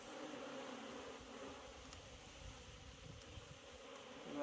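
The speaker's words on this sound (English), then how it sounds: "We got a few flying bees up here." Honey bees buzz around an opened beehive during autumn hive work, a soft, continuous droning hum of many insects at close range, quiet and steady with no talk.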